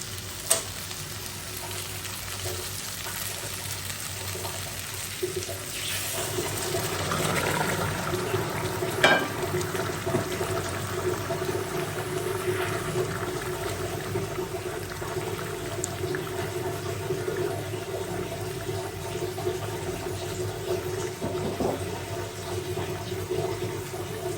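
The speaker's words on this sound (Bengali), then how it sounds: "এখন পানিটা দিয়ে দিব।" Hot water poured into a pan of boiled potatoes while fish and eggplant cook, with steady frying sizzle and stirring throughout at close range and no talk.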